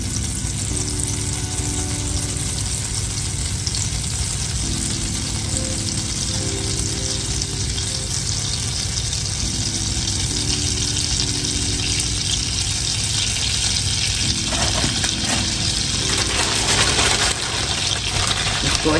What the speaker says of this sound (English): Get that butter nice and melted.